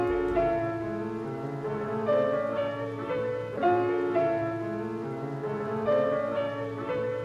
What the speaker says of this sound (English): This other preset I'm going to try is called Grainy High Pass.